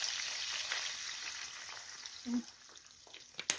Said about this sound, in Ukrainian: І зараз буду вже його смажити до золотистого такого кольору трошечки.